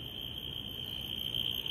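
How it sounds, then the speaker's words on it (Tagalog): A steady, high-pitched alarm rings without pause on a dead-end road lined with apartment houses, a continuous electronic tone heard from some distance over low background noise. "Ang iingay. Parang alarm."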